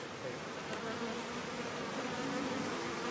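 Steady buzzing of many honeybees around beehives in Panjshir, a dense continuous hum with individual insects droning close by, heard alone without talk.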